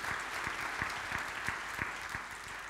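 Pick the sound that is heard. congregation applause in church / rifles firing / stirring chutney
congregation applause in church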